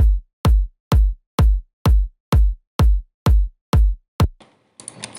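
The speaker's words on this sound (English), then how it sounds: "So my kick sounds like this." A punchy electronic kick drum from a music production project hits ten times in a steady even rhythm, each a deep booming thump with a quick decaying tail, loud and alone, followed by a brief burst of brighter synth noise.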